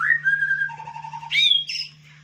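A white-rumped shama sings a short phrase of clear, sustained whistled notes sliding between pitches, ending in a brighter rising flourish, close and fairly quiet over a steady low hum.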